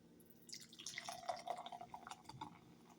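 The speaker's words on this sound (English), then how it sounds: "I'm going to line up the can with the glass, and then I'm going to close my eyes and pour." A drink is poured gently from a can into a glass, producing quiet fizzing trickles and dripping splashes that start, swell, then thin out, faint and close.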